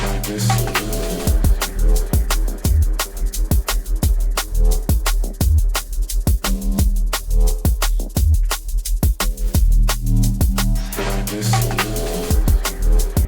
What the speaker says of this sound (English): you've made a phenomenal 8 or 16 bar loop that sounds a bit like this